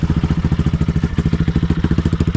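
A Barton NXT 250 motorcycle engine with boosted power idles steadily after its first starts, a rapid, even thumping pulse with a mechanical clatter on top, close and loud, with no voices.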